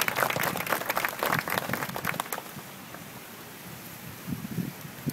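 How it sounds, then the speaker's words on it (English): Audience applause at an outdoor garden dedication, a crisp burst of clapping from a small crowd lasting about two seconds and then dying away into quiet outdoor ambience with a few stray sounds. "And a big round of applause for them."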